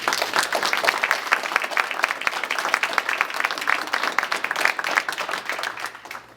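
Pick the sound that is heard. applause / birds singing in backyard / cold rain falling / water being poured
applause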